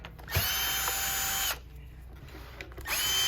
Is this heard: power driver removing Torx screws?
yes